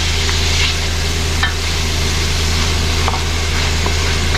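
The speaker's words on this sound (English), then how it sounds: "Add the peppers in here." Peppers sizzle in a pan over medium heat as they are stirred. The frying hiss is steady and close, with a low hum underneath and no voices.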